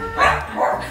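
A dog gives two quick, loud barks close by, in a short burst with a brief gap between them.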